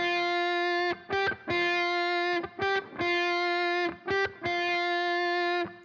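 Electric guitar with heavy fuzz tone plays a buzzy, sustained riff of held notes broken by short choppy stops and restarts.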